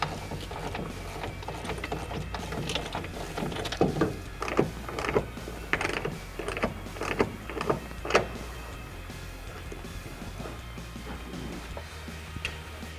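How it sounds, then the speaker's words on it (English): Bolts being tightened on the coupling of an Extang e-Max tonneau cover on a truck's side rails, a run of quick ratcheting clicks in a cluster of bursts mid-clip over a steady garage background. "we're going to tighten the bolts on the coupling so that the cover is tied to the side rails on each side"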